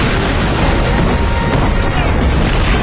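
A dense, loud roar of explosive blasts and rumbling booms from an action film fills the scene without letup.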